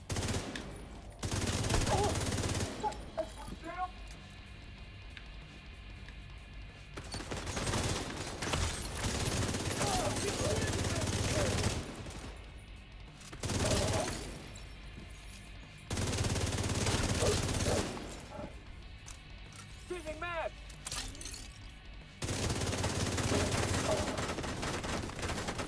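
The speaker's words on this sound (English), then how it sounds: "Stop shooting me" Sustained bursts of gunfire in a video game come in repeated loud stretches separated by quieter gaps, each volley lasting several seconds, with occasional talk between them.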